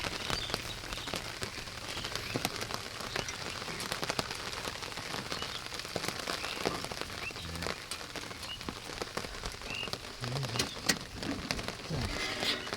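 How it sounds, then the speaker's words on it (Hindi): Rain patters steadily on surfaces, a dense spray of close drops with occasional louder individual splats, continuous throughout. "टप टप टप बूंदें पड़ती हुई"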